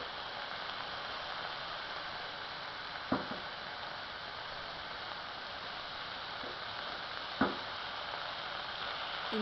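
Chopped tomato and brinjal sautéing in a pan for a Tamil gosthu, a steady soft sizzle and crackle throughout, with two brief clinks of a utensil against the pan, close and without talk.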